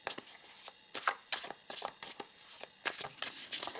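Tarot cards being shuffled by hand, a run of quick, close riffling bursts with short pauses between them, no voices.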